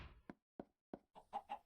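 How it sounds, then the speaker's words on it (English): Chickens cluck in Minecraft, with a series of short, clipped clucks at steady intervals followed by a quicker pair, fairly close and with nothing else behind them. "you'll notice there's tons of chickens around"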